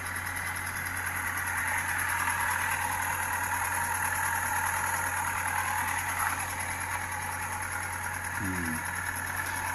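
An old used motorcycle engine idles steadily at a constant pitch, recorded at moderate distance with a high electronic whine over it and a brief faint chirp near the end.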